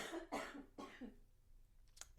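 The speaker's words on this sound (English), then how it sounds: "More coughing." A person coughs several times in quick, close bursts, fairly quiet, followed by a couple of faint short sounds after a brief pause.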